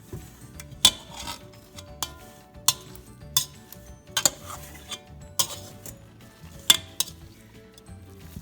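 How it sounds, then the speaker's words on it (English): Forks clink against a dish while slow-cooked pulled chicken for barbecue is shredded, giving irregular metallic taps and scrapes about once a second over a soft, moist background rustle. "You can see how easily it's shredding."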